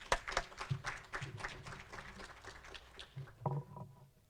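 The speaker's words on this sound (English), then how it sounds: "Give him a round of applause." Applause at a corporate breakfast meeting as a committee chairperson is called to the podium, a moderate, fairly steady patter of clapping heard from within the room.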